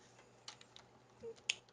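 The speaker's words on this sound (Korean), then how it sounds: "컨트롤 G 눌러서 취소를 한 다음에" Ctrl+G pressed on a computer keyboard while modelling furniture in Rhino: a few faint, close key clicks spaced over a short quiet stretch.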